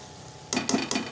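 Okra (bhindi) being stirred in a frying pan, three quick scraping strokes over a soft sizzle, close and brief.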